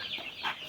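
Chicks and young roosters give a short burst of high, faint clucking and peeping, brief and close with no talk.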